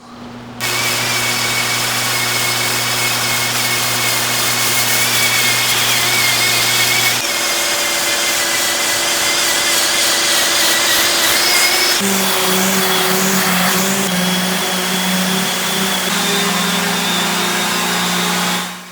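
A power sander working across a wooden tabletop made from bowling alley lane, a loud, steady high whine with a persistent hum that shifts pitch a few times as pressure changes, running continuously without talk.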